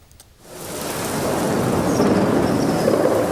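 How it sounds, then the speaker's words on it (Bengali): Heavy rain swells in after a brief quiet moment over Dhaka, becoming a dense, steady roar of downpour that fills the space. "ঢাকার বেশিরভাগ এলাকায় শুরু হয় মুষলধারে বৃষ্টি"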